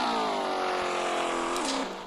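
A car pulls away with a steady engine drone that rises slightly in pitch, then shifts gear near the end before the sound tapers off; close and fairly loud, with no talking.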